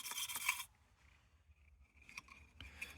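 An abrasive pipe cleaner brush rasps against a rusty lantern, a dry scratchy scrubbing in short bursts, loud at first, then fainter back-and-forth rubs, heard close up with no talking.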